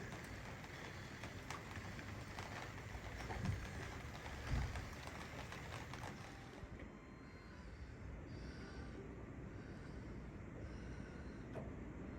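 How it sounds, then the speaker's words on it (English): Steady hiss of rain falling on an anchored sailboat during a thunderstorm, a soft continuous patter with a couple of faint thumps, no voices. "The rain has just started."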